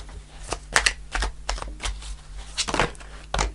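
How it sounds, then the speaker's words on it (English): Tarot cards are shuffled close by in quick, uneven bursts of crisp riffling and slapping, repeated several times with short pauses between. "I'm going to shuffle a bit longer."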